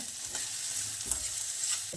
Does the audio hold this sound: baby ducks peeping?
no